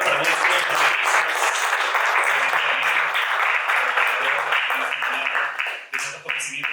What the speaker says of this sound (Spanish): fuerte voto de aplauso, por favor, para nuestros panelistas